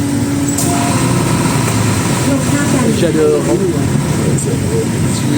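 An old city bus in Bangkok with open windows and no glass, its engine running steadily and loud at close range throughout, with a broad rumble that fills the cabin.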